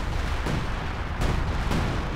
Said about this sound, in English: apparently another artillery strike